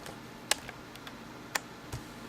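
Sharp, sparse plastic key presses on a graphing calculator keypad, a few distinct clicks spaced irregularly, close and clear against a quiet background.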